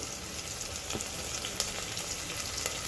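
Onions, coriander, mint and curry leaves frying in a pan give a soft, even sizzle with faint crackles and an occasional light stir.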